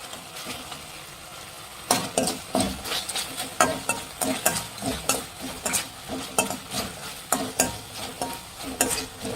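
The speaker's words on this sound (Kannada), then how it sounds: "ಇದನ್ನು ಫ್ರೈ ಮಾಡಬೇಕು, ಚೆನ್ನಾಗಿ ಫ್ರೈ ಮಾಡಬೇಕು" Chicken 65 frying in a pan, a constant sizzle under rhythmic scraping and clattering of a spoon stirring, close and fairly steady throughout, with no voices.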